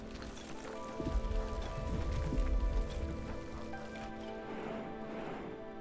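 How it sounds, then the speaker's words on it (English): Rainstorm in the video game The Wandering Village: a dense, steady patter of rain fills the clip at moderate volume, with a soft musical tone underneath and no talk. "Coming up on a rainstorm."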